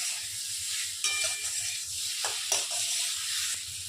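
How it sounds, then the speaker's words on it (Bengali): Jackfruit cooks with spices in a pan, a soft continuous sizzle and hiss with a few brief scraping stirs, quiet and close, no one talking. "এবার এটাকে এই মশলাগুলোর সঙ্গে কষিয়ে নেব।"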